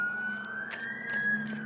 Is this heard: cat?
no